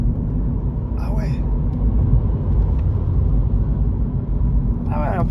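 Fully electric BMW accelerating on the Dreux race circuit, a steady loud rumbling road and wind roar with a faint whine, while people talk briefly in the car.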